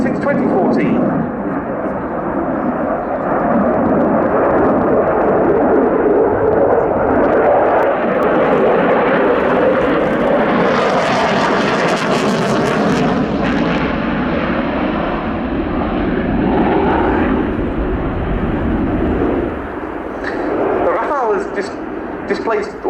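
A French Dassault Rafale fighter jet flies overhead at an air display, its loud, continuous jet roar filling the whole stretch and swelling to a harsher, brighter peak midway as it passes.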